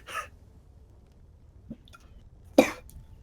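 Two short coughs, a brief burst near the start and a stronger, harsher one later, with faint quiet between them and a small throat sound in the middle.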